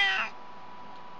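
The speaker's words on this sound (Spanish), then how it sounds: "Mi gatita está bien alegre y solamente se la pasa gritando." A pet cat gives a single short, bright meow at the start, which fades quickly into a quiet background.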